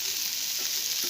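Banana flower stir-fried in a pan, a steady close sizzle of frying with faint scrapes of stirring and no talk.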